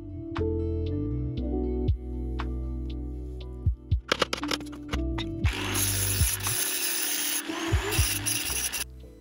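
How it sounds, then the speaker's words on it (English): Cutting into a nut on the cylinder head of a BMW R80 motorcycle: close rubbing and grinding strokes start after a low steady hum, then turn into a harsher rasping cut that continues with brief breaks. "only cut into the nut itself"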